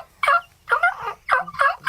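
A turkey call imitating a gobble, sounded in four quick, warbling bursts with short gaps between them, loud and close, against faint room noise.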